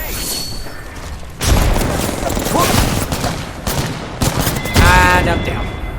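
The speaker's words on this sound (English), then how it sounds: "Look out, grenade." Video game firefight with a thrown grenade: a heavy blast bursts in around mid-clip amid rapid, continuous gunfire and machine-gun bursts, fairly loud and busy throughout.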